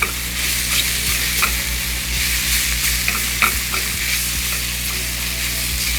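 Spinach sizzles in a hot pan with sautéed mushrooms, a loud continuous frying hiss broken by occasional stirring scrapes, close up, with no talking.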